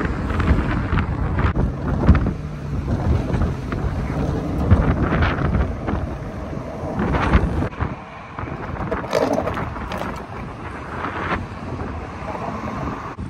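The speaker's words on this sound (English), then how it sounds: "This wind is absolutely nuts. It's the worst wind of the trip." Strong gusty wind roaring across the microphone while skateboarding down a steep hill on a cross-country skate trip, a loud continuous buffeting rumble that swells and dips, no voices.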